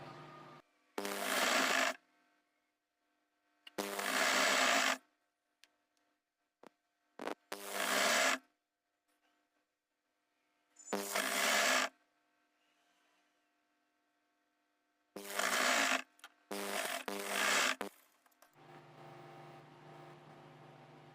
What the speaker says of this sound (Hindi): अब हम ये ऐसे ऊपर तक सीधी सिलाई लगा लेंगे